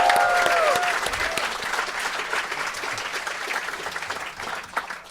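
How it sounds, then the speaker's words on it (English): A sold-out live crowd at the Comedy Cellar in New York City applauds, loud at first and then thinning to scattered clapping and murmurs. "Give yourselves a round of applause."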